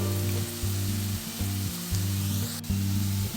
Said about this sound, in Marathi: ऑलमोस्ट आता हा कांदा परतून झालेला आहे